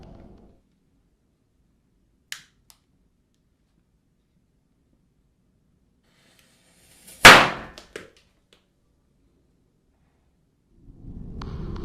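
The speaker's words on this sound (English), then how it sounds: "a man wearing a mask covered in bananas with firecrackers embedded in them as he methodically lights each one" Firecrackers embedded in bananas on a mask worn by a man go off one at a time: a faint early pop, then a loud sharp crack near the middle followed by a smaller snap, with mostly silence between and low rumbling at the ends.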